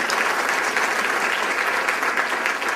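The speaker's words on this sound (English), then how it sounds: "Give yourselves a round of applause because you are an example." Audience applause at a speech event, a steady dense wash of clapping hands filling the whole stretch at even loudness, with no voice over it.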